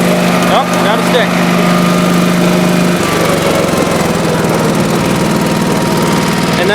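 A 1986 Honda HT3810 riding lawn mower engine runs loud and steady, shifting from a low droning hum to a rougher, busier rumble partway through as the mower drives along close by.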